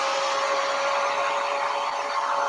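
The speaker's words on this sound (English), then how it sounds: "Trusty old hairdryer." Trusty old hairdryer blowing to dry watercolor paint, a loud, steady, close whirring airflow with a constant tone that continues unbroken without talk.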